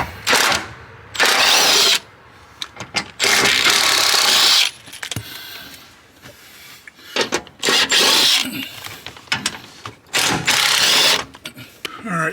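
A ratchet backs out the trunk brace bolts on a 2000s Nissan Sentra B15, coming in several bursts of fast clicking separated by quieter pauses, with faint metallic handling noises in between.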